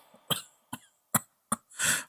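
Five short, dry coughs in a row, spaced about half a second apart, the last one longer and raspier; close and fairly quiet, no talking.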